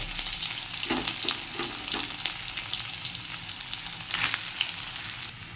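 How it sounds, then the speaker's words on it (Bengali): Soybean chunks frying in a pan over a low gas flame, with steady close sizzling and crackle broken by intermittent stirring scrapes and bursts of spatter. "সব সয়াবিনগুলো দিয়ে দিয়েছি এরকম করে একটু মোটামুটি ভেজে নেব"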